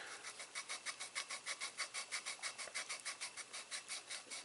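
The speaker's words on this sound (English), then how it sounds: "So it just rubs into the seat like that. Okay, and we just rotate it and rub." An engine valve on a Toyota 1.6/1.8L, from a '96 Geo Prizm, is lapped against its seat, giving a quiet, steady gritty rubbing that repeats in about twenty quick back-and-forth strokes at an even rhythm.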